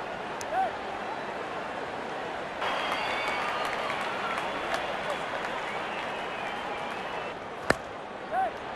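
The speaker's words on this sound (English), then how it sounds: "Crowd is enjoying." Crowd cheering and applauding in the Real Cricket 24 video game during a match, a steady wash of applause that swells in the middle and fades, with voices heard briefly.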